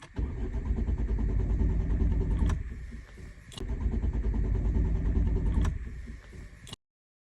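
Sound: car engine cranking but failing to start

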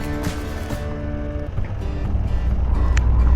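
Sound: strong wind

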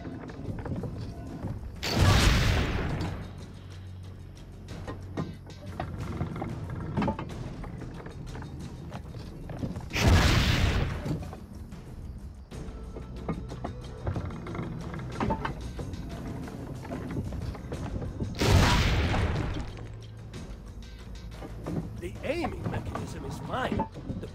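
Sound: cannon firing in a video game

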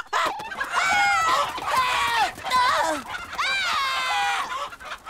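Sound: chickens clucking

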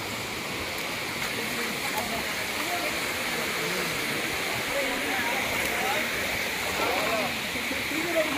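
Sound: Rani Khoiyachhora waterfall

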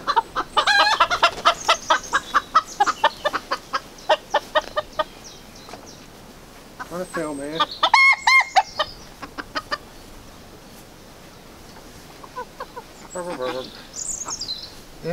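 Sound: chickens clucking

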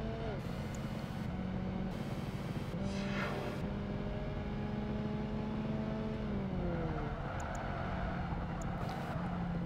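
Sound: car engine in racing video game Project Gotham Racing 2

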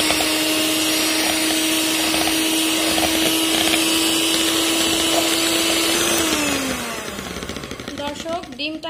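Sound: egg being beaten until foamy

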